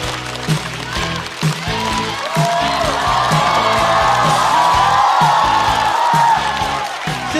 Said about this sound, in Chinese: 掌声有请何广智